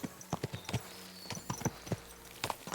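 Horse hooves clip-clop steadily on a path in the medieval video game Kingdom Come Deliverance 2, an even walking rhythm of soft, close thuds with no talk over them.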